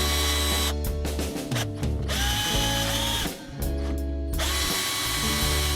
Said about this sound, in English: I got my drill and this handy little bit.